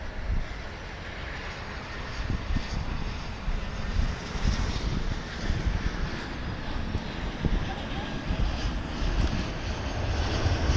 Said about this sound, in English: American Flight 1867 arriving from Austin, Texas, an Airbus A319.